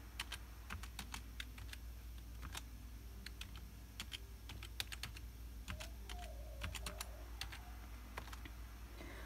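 Computer keyboard being typed on to enter a new password during Raspberry Pi 4 Ubuntu 20.04 setup, a steady run of quick, crisp key clicks in short bursts, close and clear over faint background hum.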